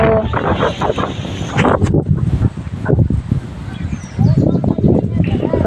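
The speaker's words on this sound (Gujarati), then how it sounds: "જો આ જો એ વાયરો વાયરો પણ ખૂબ છે" Strong outdoor wind buffets the microphone in heavy, uneven rumbling gusts that rise and fall throughout, with faint higher sounds drifting in between.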